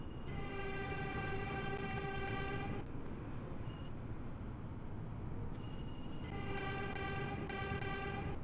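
Simulated train from the OpenBVE train simulator game, a Manhattan 808 train, rumbling steadily throughout with a sustained harmonic horn tone sounding twice over the running noise.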